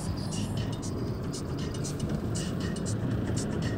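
Steady road rumble is heard from inside a moving car, a low, even drone of tyres and engine that runs continuously throughout, with some voices.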